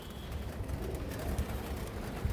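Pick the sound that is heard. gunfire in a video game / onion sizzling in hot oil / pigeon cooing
pigeon cooing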